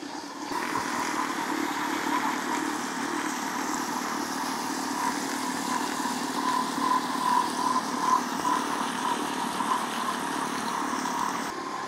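Secura, AEVO and Pansonite milk frothers whirring together, a steady close motorized hum with a high whine layered over a low drone, constant throughout with no talking.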